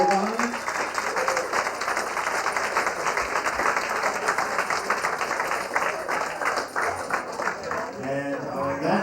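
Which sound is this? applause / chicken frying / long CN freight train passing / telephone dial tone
applause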